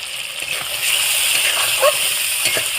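A small splash of warm water poured into a pan of ground cumin, coriander and fennel spices for chilli soybean, a close, steady wet hiss with a brief splattering burst partway through.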